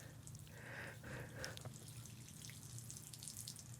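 Faint water trickles and drips into a sink or basin, light scattered splashes over a steady low hum with no voices.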